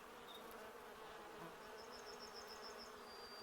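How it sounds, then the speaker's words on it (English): Bees buzz in a Sherlock Holmes adventure game: a soft, continuous insect drone with a few thin, higher whining tones drifting in, faint and unbroken throughout. "I hear bees."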